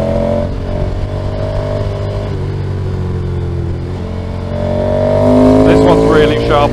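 A Ducati motorcycle rides along a road, its engine droning loudly up close and then revving higher toward the end, with people talking over it.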